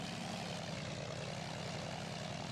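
A propeller aircraft engine drones steadily in a VR flight simulator during a short takeoff with one stage of flaps, a continuous loud hum holding without pause and no voices over it.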